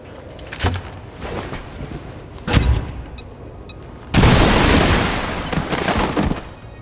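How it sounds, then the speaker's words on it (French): Grenade blast in the video game XCOM 2 on a moon mission, a sudden loud broadband burst near the four-second mark that leaves a long rumbling decay, after earlier sharp impacts and gunfire-like cracks in a busy combat mix. "Grenade!"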